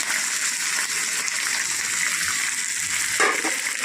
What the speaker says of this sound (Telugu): ఇవి బాగా ఫ్రై చేసుకోవాలి.